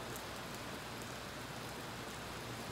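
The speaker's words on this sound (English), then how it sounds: "It's raining out here." Steady rain falling outdoors, a dense, even hiss that holds at a constant level for the whole stretch with no talk over it.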